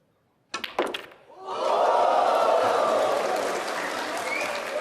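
A snooker crowd at the Xi'an Grand Prix final breaks into loud, sustained cheering and applause after a few sharp claps, the roar swelling and holding steady, close and full.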